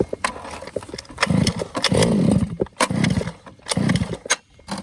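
The 2-stroke engine of a Losi DBXL 1/5-scale RC car sputters and pops unevenly on choke, with irregular bursts and short revving surges separated by brief gaps.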